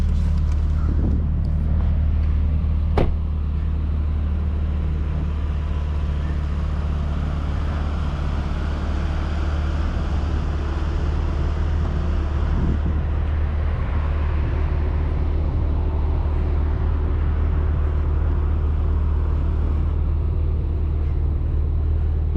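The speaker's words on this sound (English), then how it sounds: "let's get this Macan started up." A 2018 Porsche Macan GTS engine running with a steady low rumble, preceded near the start by a brief sharp transient from the start-up, then settling into a constant idle drone with no talking.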